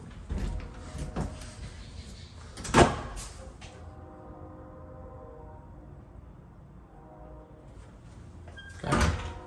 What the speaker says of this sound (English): This is the garage door.